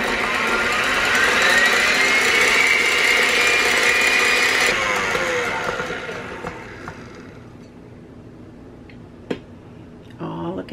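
Electric mixer beating egg whites for cloud bread, a loud steady whirring motor drone for several seconds that winds down into quiet, followed by a few faint clinks near the end.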